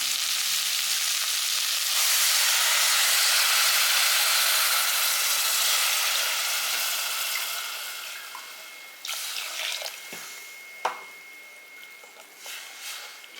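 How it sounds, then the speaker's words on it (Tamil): Steady hiss and bubbling of three cups of water boiling in a pot for vegetable biryani, gradually quieting, with a few small clinks and knocks toward the end. "இப்போ தண்ணி கொதிச்சிக்கிட்டு இருக்குது"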